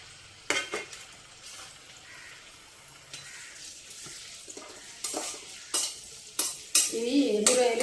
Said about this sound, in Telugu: ముందుగా ఎండు రొయ్యలు వేయించుకుందాం.